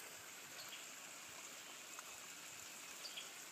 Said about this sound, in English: look at that water just bubbling out of there. Just listen to it.